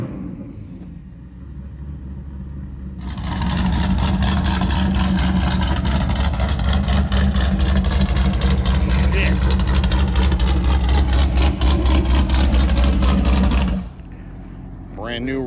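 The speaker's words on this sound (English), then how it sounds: "Brand new Redline motor." A Polaris RZR off-road vehicle with a brand-new Redline motor roars loudly close by at Glamis dunes, holding a steady high-revving drone for about ten seconds before cutting off, with voices talking around it.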